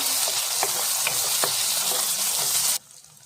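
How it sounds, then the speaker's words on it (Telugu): Green chilies, onion and garlic fry in hot oil for a broad beans and tomato curry, giving a loud, steady close sizzle with faint stirring clicks that cuts off abruptly near the end. "అలాగే కట్ చేసి పెట్టుకున్న పచ్చిమిర్చి ఆనియన్ వెల్లిపాయల్ని యాడ్ చేసుకొని కొంచెం ఇలా మంచిగా వేగనివ్వాలి"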